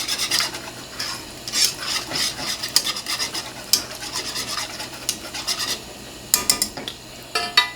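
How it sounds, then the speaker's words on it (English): A spoon scrapes and clinks against a pan while stirring a cream, butter and milk sauce for shrimp pasta, in irregular bursts of close, bright scraping with soft sizzling between strokes. "Put that in there. Mix, mix, mix, y'all."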